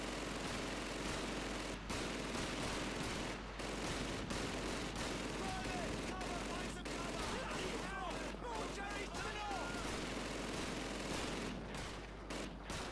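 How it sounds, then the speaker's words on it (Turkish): Sustained machine gun fire in the World War II shooter Call of Duty 2, with dense rapid bursts and other gunfire across a loud battlefield that keeps going throughout, while a voice speaks over the din. "Makinalı tüfek var."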